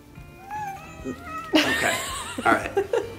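A reluctant cat yowls and caterwauls in drawn-out, wavering cries while being dressed up for a Christmas photoshoot, loud and close, with brief laughter and soft voices around it.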